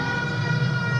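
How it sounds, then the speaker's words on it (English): An arena siren blares during a live basketball game broadcast, one brief, steady, loud wailing tone that holds for about a second. "Sirens ring out on the Bagayoko make."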